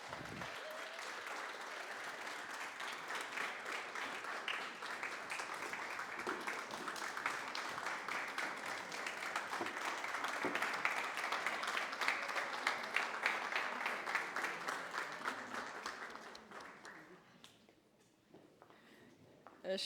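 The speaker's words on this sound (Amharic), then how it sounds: "ሞቅ ያለ ጭብጨባ።" Warm, sustained applause from a crowd at a book launch in Ethiopia, a dense steady clatter of many hands that swells gradually, holds for most of the stretch, then thins and fades near the end.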